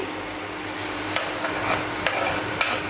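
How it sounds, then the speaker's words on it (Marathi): Finely chopped onion is stirred into whole spices frying in oil for a mutton curry, giving a steady sizzle with several sharp scraping clicks of the spoon against the pan. "आता आपले खडे मसाले थोडेसे परतून झाले का आपण ह्या बारीक चिरलेला कांदा घालणार आहोत"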